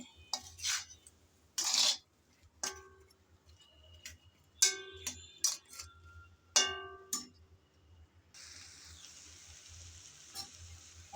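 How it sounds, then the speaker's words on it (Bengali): Spices being stirred and fried in a pan, heard as intermittent metallic clinks and scrapes of a spoon against the pan, quiet and spaced out, with a faint sizzling hiss rising near the end. "এভাবে নেড়ে চেড়ে ভালোভাবে মশলা কষিয়ে নিতে হবে।"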